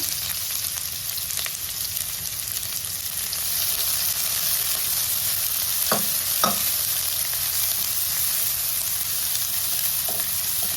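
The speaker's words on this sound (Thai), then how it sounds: "พอน้ำมันเริ่มร้อนดีใส่หอมแดงซอยลงไปนะคะ" Steady sizzling of sliced shallots frying in hot oil over low heat, with a few clinks of a utensil stirring in the pan.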